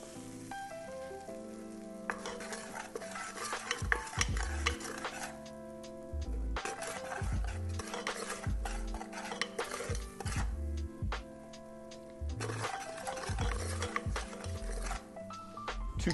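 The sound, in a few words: stirring flour into a pan for mac and cheese sauce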